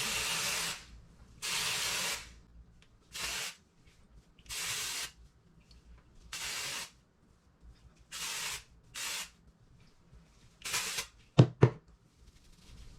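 Short hissing bursts from an aerosol can of dry shampoo sprayed onto hair, about eight quick sprays in an irregular rhythm with quiet pauses between, close and fairly soft.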